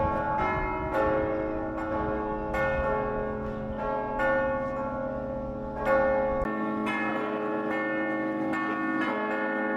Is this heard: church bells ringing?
yes